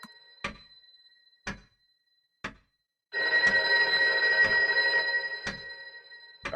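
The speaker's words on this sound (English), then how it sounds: "the phone is ringing" In Loretta, four sharp knocking thuds spaced about a second apart are followed by a telephone bell that rings continuously and loudly, with the regular thuds carrying on beneath it.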